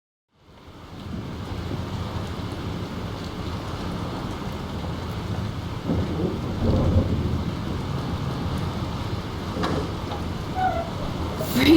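A heavy thunderstorm in the video game Life Is Strange: loud driving rain swells in and roars continuously, with rolling thunder rumbling through and a louder surge near the end, no talking.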